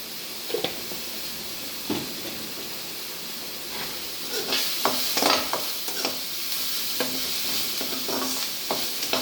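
Chilli powder, turmeric and chickpeas sizzle and hiss in a hot pan while being sautéed, with intermittent scraping and stirring clatter from a utensil; no voices.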